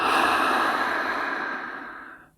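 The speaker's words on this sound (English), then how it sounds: "With Ujjayi breath, we're using the same constriction in the back of the throat as we exhale" A single long, breathy ujjayi exhale through a constricted throat with a hissing, throaty rasp, close and steady, tapering off at the end.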